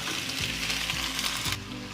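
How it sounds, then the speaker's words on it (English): Onion frying in a pan with cumin seeds and whole pepper, a steady bright sizzle with a couple of soft stirring knocks underneath, close and continuous with no voices. "let's fry the onion until they turn light brown in color"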